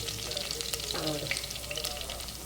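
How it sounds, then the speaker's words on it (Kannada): Crushed garlic cloves fry in hot oil in a pan for a colocasia stem stir-fry, a dense continuous sizzle with crackles and a brief stirring scrape, close and loud. "ಬೆಳ್ಳುಳ್ಳಿ ಹಾಕಿ ಸ್ವಲ್ಪ ಬ್ರೌನ್ ಕಲರ್ಗೆ ಬರಬೇಕು ಬೆಳ್ಳುಳ್ಳಿ"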